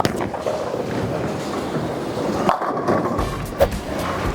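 A large-core plastic bowling ball, the Spy, rolls down a bowling lane with a steady, rumbling roll, a few sharper knocks and clatters near the end amid faint alley ambience.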